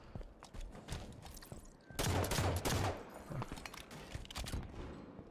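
SMG fire in Halo 5 multiplayer, heard as rapid bursts of gunshots with a denser, louder fusillade in the middle, mixed with other game effects.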